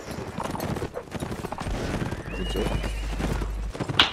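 Hooves clatter and a horse whinnies amid the din of a Napoleonic-style line battle game with dragoon cavalry, a low rumble swelling midway while players talk over the action.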